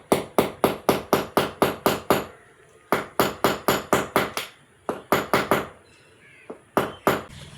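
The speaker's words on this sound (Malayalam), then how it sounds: "കയർ വെച്ച് ആണി അടിച്ചു കണ്ടോ." A hammer drives a nail through a rope in rapid bursts of sharp, loud, evenly spaced blows, broken by short pauses and ending in scattered single strikes.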